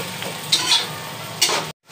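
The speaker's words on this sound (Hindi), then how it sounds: "उसके बाद इसमें ऐड करेंगे हम चिकन जो हमने फ्राई करके रखी हुई थी, अच्छे से करेंगे मिक्स" Fried chicken being tossed into chow mein in a pan, with close scraping and sizzling strokes in a few bursts, ending abruptly in a short silence.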